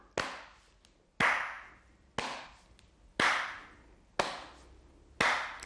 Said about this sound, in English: Tap and clap.